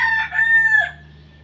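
A rooster crows nearby in a Bangladeshi village poultry yard, one full, loud cock-a-doodle-doo with a drawn-out final note that fades away, set against a faint low hum.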